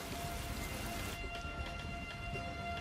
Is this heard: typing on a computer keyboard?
no